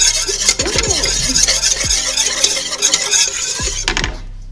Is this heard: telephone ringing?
no